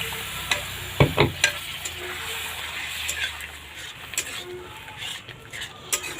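Water poured onto spices frying in a pan sets off a crackling sizzle with scattered clinks of a utensil stirring. It is steady and close, with a few louder pops early on.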